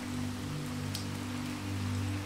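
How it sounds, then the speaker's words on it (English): Steady rain falls outside a stone manor on a stormy night, a soft, even hiss of drops over a low, constant hum, faint and unbroken. "The rain outside continues its steady cadence, and the winds howl around the stone walls."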